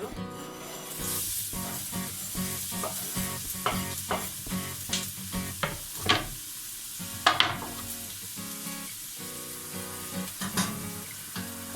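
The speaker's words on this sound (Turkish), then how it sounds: "Önce biraz soğanımızı kavuralım arkadaşlar." Onions sauté in a pot as the base for kapuska, a white cabbage stew with minced meat, sizzling steadily while a spoon scrapes and stirs in repeated close strokes, with a few short bursts of louder frying.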